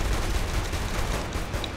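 Gunfire in Saints Row: The Third, a dense, steady crackle of shots running continuously at close range, loud throughout with no pauses.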